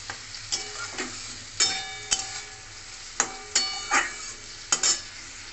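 Onion and capsicum frying in butter in a home kitchen: a soft sizzle under intermittent sharp clinks and scrapes of a spoon stirring against the pan, close and fairly quiet, no talking.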